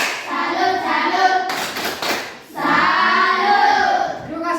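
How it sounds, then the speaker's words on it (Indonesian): A classroom group gives a rhythmic salute clap, a brief burst of many hands clapping together between loud chanting voices of the students. "berikan sekali lagi tepuk salut untuk kelompok 4 yang sudah mempresentasikan hasil diskusinya"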